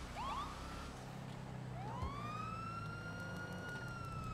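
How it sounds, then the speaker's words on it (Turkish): A police car siren in GTA 5 Online wails in rising and falling sweeps, loud and close, above the hum of a car engine, with no talk. "sirenleri açınca geliyordu ama."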